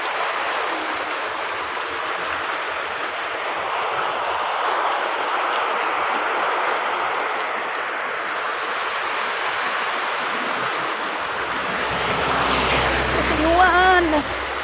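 Heavy, sudden rain pours down in a steady, loud, hissing wash that lasts throughout, with people talking under it and a short voice near the end.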